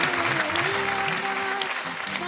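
Loud applause from a singing-show audience for a child singer, steady clapping with music and voices running underneath.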